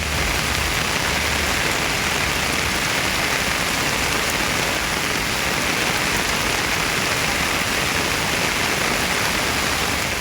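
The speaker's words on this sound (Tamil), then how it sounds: "மணல்மேடு, பட்டவர்த்தி, குத்தாலம், மல்லியம், தரங்கம்பாடி, பொறையார் உள்ளிட்ட பகுதிகளில் கனமழை வெளுத்து வாங்கியது." Heavy rain pours steadily and loudly for the whole stretch, a dense unbroken hiss of downpour with no voices, falling on farmland areas in Tamil Nadu.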